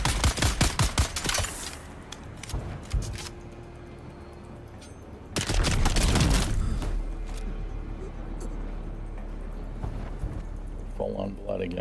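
Rapid bursts of gunfire ring out in the video game Dune: Awakening, a fast volley at the start and another around the middle, loud and close over a steady game ambience.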